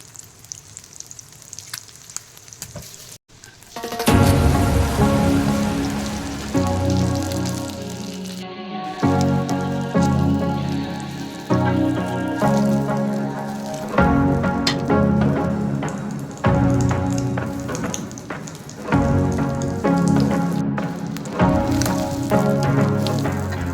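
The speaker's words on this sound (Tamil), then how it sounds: "ஆயில் சூடானதுக்கப்புறம் எக்ஸ் எல்லாத்தையும் ஷாலோ ஃப்ரை பண்ணி எடுத்துக்கலாம்." Hot oil sizzles and crackles steadily, loud and close, as eggs shallow fry in a pan with occasional stirring.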